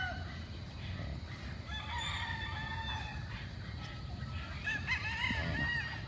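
Chickens on a Philippine poultry farm cackle and cluck continuously, with a rooster crowing among them over a steady low farm hum; the birds sound moderately close.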